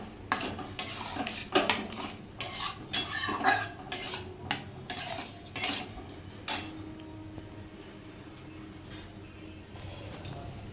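Dal goes into a pot and is stirred with a metal spoon, about a dozen sharp clanks and scrapes in quick succession for several seconds, then a quieter bubbling simmer with occasional taps.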